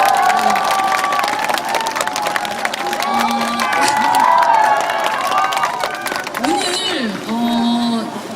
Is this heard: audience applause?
yes